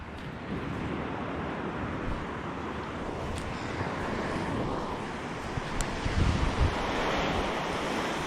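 Ocean surf rolling and breaking on a windy shore in the Whangarei District while fishing, with steady wind buffeting the microphone throughout and a slightly louder surge of waves toward the end.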